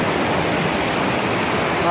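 A waterfall pours over rocks in a steady, loud, unbroken rush of water, with no voices over it.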